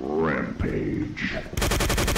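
Rapid automatic gunfire in the Day of Defeat Source video game rattles out in a loud, even burst after a brief stretch of talking.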